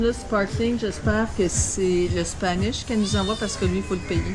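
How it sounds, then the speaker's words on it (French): A cat meows repeatedly in short rising-falling calls, close and clear, while people talk over it in French in a room with a faint air-conditioner hum. "Non, c'est un chat."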